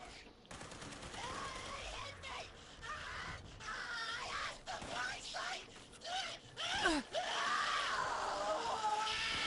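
Creatures screaming in a video game, shrill warbling shrieks and wails rising and falling over rapid gunfire and clatter, fairly close and overlapping.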